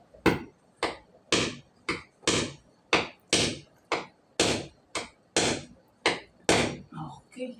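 Hammer blows driving the several nails of a concrete picture hanger into a wall, about a dozen sharp, loud strikes in a steady rhythm, close by and with no talking.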